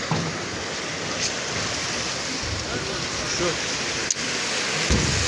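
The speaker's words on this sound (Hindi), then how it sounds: "वहाँ से पानी आ रहा है और ये पानी रवां दवां है इस टाइम" Meltwater from snow on the mountain rushes under an iron bridge, a steady broadband wash of flowing water running continuously at close range, with faint talk in the background and a brief knock near the end.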